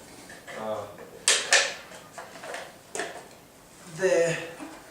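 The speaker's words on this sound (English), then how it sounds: "we call this the primary air door. You need to make sure that is open." A metal primary air door on a Malaika Jiko charcoal cookstove is opened before lighting, giving a few short sharp metallic clicks and scrapes at close range, with a softer rattle near the end.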